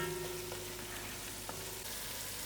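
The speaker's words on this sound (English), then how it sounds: "I'll allow these potatoes to fry a little together with the masala for a few minutes" Potatoes frying together with masala in a pot for a broad beans curry, giving a low, steady sizzle with a few faint clinks, quiet and close, without any voices.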